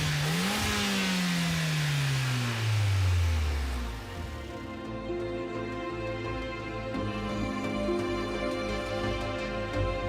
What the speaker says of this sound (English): Oh, listen to that. That engine.